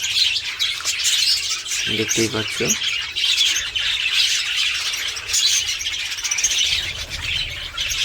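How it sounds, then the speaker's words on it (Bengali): Pet birds in a bird house chirp and squawk continuously in a busy, overlapping chorus near the microphone, while a person talks briefly over them. "সব পাখিরা সব কত আনন্দ ফুর্তিতে আছে।"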